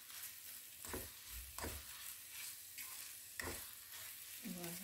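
Ground beef being stirred and crushed together with vegetables in a sizzling pan, soft scraping strokes over a steady frying hiss, fairly quiet and close.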